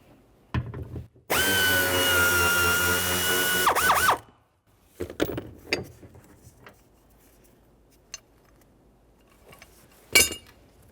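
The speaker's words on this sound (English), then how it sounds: "You'll have to remove this bracket, continuing with your torque socket." A torque socket driver removes a door trim bracket on a 1999-2006 Chevrolet Silverado 1500: one close, steady whirring burst lasting about three seconds, followed by scattered clicks and light tool clatter.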